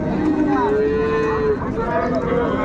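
Mooing from cows and calves at Raniganj cattle market in Dinajpur, a long steady low call followed by shorter bending moos, heard over a busy background of market chatter.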